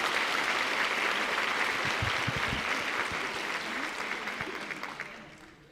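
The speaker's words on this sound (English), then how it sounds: "Please join me in giving Steve one more round of applause for that message." Sustained applause from a school district convocation audience for a speaker named Steve, a dense wash of clapping holding steady for several seconds before fading toward the end.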